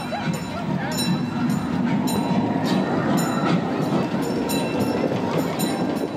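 A theme park train on an old-timer railway rumbles continuously past a level crossing, with steady rolling noise and repeated rhythmic wheel clicks throughout, close and fairly loud.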